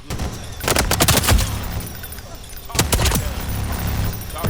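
Rapid video game gunfire in two dense bursts, a cluster of loud sharp shots early on and a second volley near the end, with a busy game soundscape between them.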